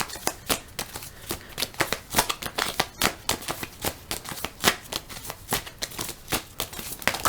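A deck of Tea Leaf Fortune Telling Cards is shuffled by hand close up, with a steady run of quick, crisp riffling flicks and slaps that repeat throughout.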